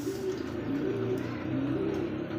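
Racer, Bombay, Danish, Beauty, Lahori and Lakkha pigeons coo in a steady, low, throaty rhythm close by, several birds overlapping continuously with faint background hum.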